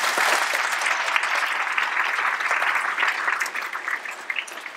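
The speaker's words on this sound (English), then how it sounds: "can we round of applause for Sarah?" Warm, steady applause from an audience at a lecture on Irish folk tales and Halloween legends, given for Sarah, a thick continuous clapping close by that holds level and then tapers slightly toward the end.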